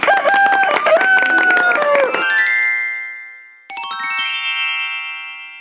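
A chicken crows in a children's animal game, a loud, close, warbling call lasting about two seconds, then a bright electronic chime rings out and fades.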